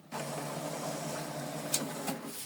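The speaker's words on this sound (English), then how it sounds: "you need to wait for the printer to print out the document" An office printer runs through a document with a steady mechanical hum and whir, punctuated by a couple of sharp clicks near the end, close and moderately loud with no talking.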